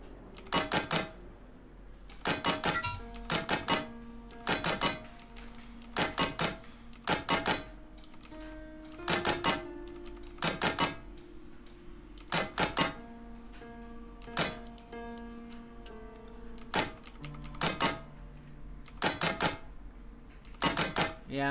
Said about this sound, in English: they must have added a track typing